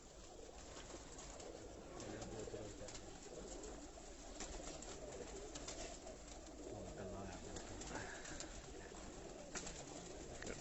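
Breeder pigeons coo over a busy background of bird calls and a low rumble, soft and continuous, with faint talk mixed in.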